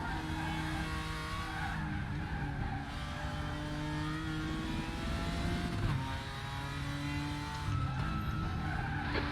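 A BMW GT4 race car in RaceRoom howls steadily at Sonoma, its engine note holding loud and continuous while the tires squeal and skid through understeer across the whole stretch.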